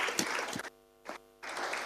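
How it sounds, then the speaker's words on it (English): Audience applause at an APAC business conference on innovation and customer success, broad clapping that swells, drops away briefly and returns in short bursts. "Once again, a big clap to them for their business"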